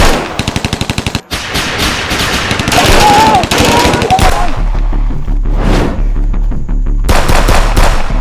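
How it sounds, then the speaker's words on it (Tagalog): Sustained automatic gunfire rattles in rapid bursts during an action film shootout, loud and close, with short pauses between volleys, someone shouting at the start and other voices and impacts mixed in. "Putukan niyo!"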